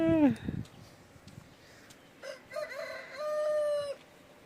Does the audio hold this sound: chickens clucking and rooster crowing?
yes